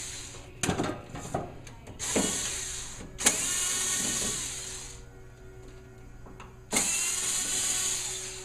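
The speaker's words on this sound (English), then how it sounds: "I'm just going to lower the window." An electric window motor in the door of a 1968-72 Chevy El Camino whirs in several sustained runs between brief clicks and clunks, close and fairly loud with no talking.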